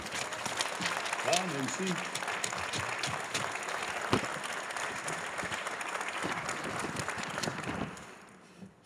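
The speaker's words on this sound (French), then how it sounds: "Je pense que ces gens-là méritent une bonne main d'applaudissements." Audience applause at the inauguration of the Mont-Tremblant sports centre, steady clapping from a large crowd lasting several seconds before fading, with a voice speaking briefly over it.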